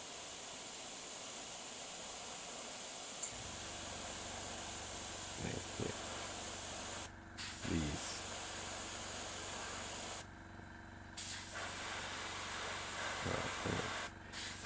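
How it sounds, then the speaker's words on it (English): An airbrush sprays paint in long, steady hisses, broken by brief pauses when the trigger is released. Faint handling knocks sit underneath, and no one speaks. "seeing if we can make something interesting with the airbrush"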